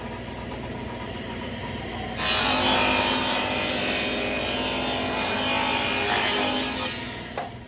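A saw blade cuts a thin strip of wood veneer, about 1/16 inch thick, fed along a small guide shelf: a steady idling machine hum jumps into a loud, sustained rasping whine of cutting for about five seconds, then drops back.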